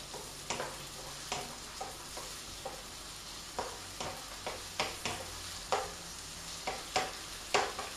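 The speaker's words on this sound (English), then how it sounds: "we're going to cook these just for about 4 or 5 minutes, gang, until they're nicely browned off." Onions flavoured with beer fry in a pan for a satay chicken stir fry. A soft, steady sizzle runs under the repeated clicks and scrapes of a utensil stirring, which grow more frequent and slightly louder toward the end.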